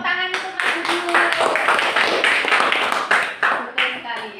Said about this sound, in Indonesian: Oke, tepuk tangan untuk Mas Bedu.